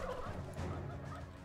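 Turkeys gobble in a farm scene from the video game Dungeons III, a dense, faint clucking chatter that runs steadily through the moment with no speech over it.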